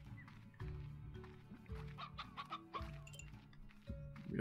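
Chickens clucking in the video game Slime Rancher, a steady series of layered clucks and squawks from several birds, fairly close, with no talk over them.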